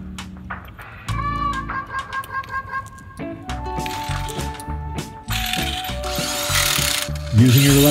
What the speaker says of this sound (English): Using your electric impact gun, tighten up the lugs, alternate top to bottom, left to right